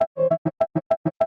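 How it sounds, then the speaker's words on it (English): An original piano sample plays dry, without effects: about eight short, bright notes in a quick, evenly spaced rhythm, each cut off cleanly. "So without the effects that I added, it just sounds like this."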